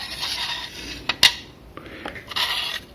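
Close metallic scraping and rubbing as a bent wire is threaded through a drawer handle during a repair, with a couple of sharp clinks in the middle.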